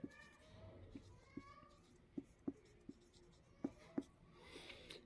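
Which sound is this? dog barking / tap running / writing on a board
writing on a board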